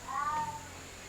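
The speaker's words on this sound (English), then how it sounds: "If you heard that cat crying, he's my old Bengal." A Bengal cat gives one short, plaintive meow indoors, fairly faint over a low steady background hum.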